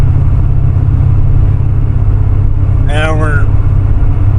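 A C4 Corvette with a Crossfire engine cruises at about 70 mph in overdrive, its engine a steady low drone inside the cabin, with a voice speaking briefly over the hum.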